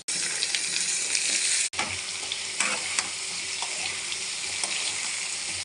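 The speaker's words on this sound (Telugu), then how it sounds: "ఇప్పుడు ఇందులోకి బంగాళదుంపలు వేస్తున్నాను" Potatoes added to browned onions fry in a hot pan, giving a loud, steady sizzle that carries on throughout, broken by a short pause and a few stirring scrapes.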